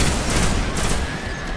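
Rapid gunfire from a Destiny firefight in a dense, loud burst of overlapping shots filling the whole moment, with no voice on top.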